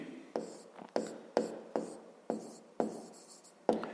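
Pen or marker writing numbers by hand during a fifth-grade maths exercise, a series of about eight short scraping strokes in a steady rhythm, close and fairly quiet, with no talking.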